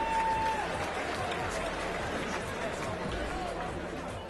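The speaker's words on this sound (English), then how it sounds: "a big round of applause to your runner-up, Simon Carrington" A crowd applauds the runner-up fighter at a UCMMA 13 mixed martial arts event, steady dense clapping and cheering filling the hall throughout, with voices mixed in.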